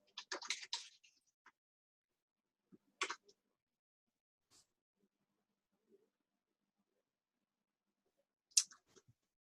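Bursts of typing on a computer keyboard, quiet and close, a couple of short clusters of key clicks separated by silence with a few isolated taps.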